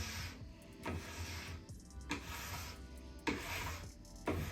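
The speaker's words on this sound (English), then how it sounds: "is take your scraper and start scraping. And what you're gonna do is just do long, even strokes all the way across the board." A plastic scraper pulls wax off a snowboard base in long, even strokes, each a raspy broadband scrape, about four passes close up with short pauses between.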